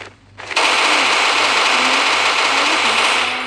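Video game gunfire in a dragon-slaying battle: a loud, continuous automatic stream that starts abruptly and holds for about three seconds, dense and sustained with no talk over it.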